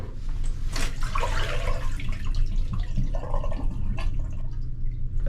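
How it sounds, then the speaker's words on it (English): Water splashes and trickles out of a beach dry bag used for laundry in irregular gushes and drips, close by, with a low background rumble and no talking. "drain the water carefully"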